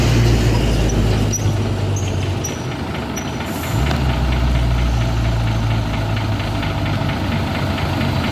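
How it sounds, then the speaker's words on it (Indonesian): Truck engine labouring uphill at a mountain bend, a steady deep low drone that dips briefly midway and then resumes, heavy and close, with a faint knocking rhythm running through it. "di sini ada truk juga nanjak"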